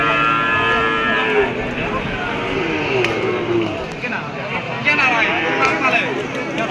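Cattle low repeatedly at a busy cattle market. Drawn-out moos sound nearby over a constant crowd hubbub and chatter.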